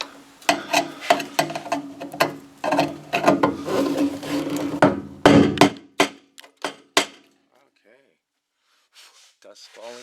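Hammer strikes drive a 1965 Mustang fuel tank past a notch during replacement: a run of loud, sharp metallic blows with rattling in between, mixed with speech, then near silence.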